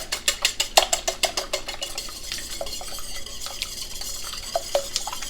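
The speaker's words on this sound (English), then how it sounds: "just give this a rough whisk" A fork briskly whisks egg wash in a bowl for breading chicken breasts, fast rhythmic clicking taps at the start that slow into scattered scrapes, up close.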